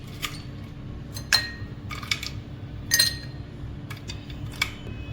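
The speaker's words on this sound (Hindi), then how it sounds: "अब जो है वो मैं इसमें डाल देती हूँ आइस क्यूब्स।" Ice cubes drop into a glass of lemon juice for a watermelon, mango and orange mocktail, making a series of bright, sharp clinks spaced irregularly over about five seconds against a quiet background.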